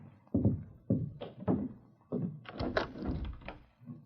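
Radio drama door knocks: a series of hollow wooden thumps, first in a spaced group of knocks and then a quicker, busier cluster, close and moderately loud with no voices.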